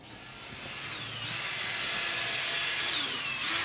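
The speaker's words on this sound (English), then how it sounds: "We're sanding holes." A power tool whines steadily, sanding holes in wood, its high-pitched motor tone rising and falling slightly as it works, close and loud with no talking.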